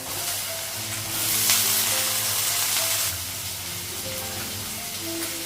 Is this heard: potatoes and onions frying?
yes